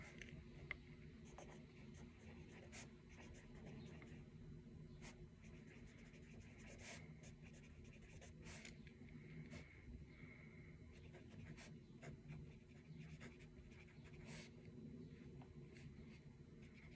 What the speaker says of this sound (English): So, hold on, I'm gonna write something.